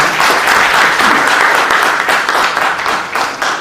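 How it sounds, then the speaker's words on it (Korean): Audience at a National Assembly event on Korean wild ginseng applauds three award winners with loud, dense, continuous clapping that tapers slightly at the end. "다시 한번 우리 수상하신 세 분께 다시 한번 큰 박수 보내주시기 바랍니다"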